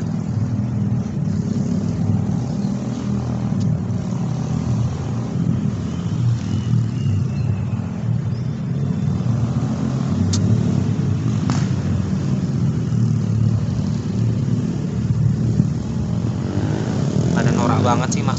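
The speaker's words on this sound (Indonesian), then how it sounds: "Norak banget sih, maksudnya apa sih knalpot digede-gedein kayak gitu?" A vehicle with an enlarged aftermarket exhaust roars loud and close, a constant low drone that lasts throughout.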